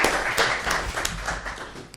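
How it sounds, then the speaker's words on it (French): Audience applause at a televised show, a dense burst of clapping with a few sharper individual claps standing out, moderately loud and short. "On va applaudir."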